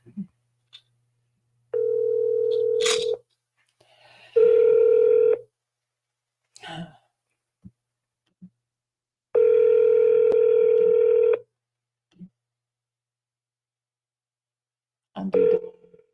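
A telephone handset plays long steady tones with silent gaps and brief clicks between them, as a phone number is dialed.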